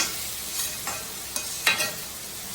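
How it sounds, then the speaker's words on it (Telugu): Drumstick pieces frying in hot oil, a steady loud sizzle with a few brief stirring scrapes, close and without talk. "ఇదైతే చక్కగా మనం ఎర్రగా వేగే వరకు వేయించుకున్నాము మునక్కాయ"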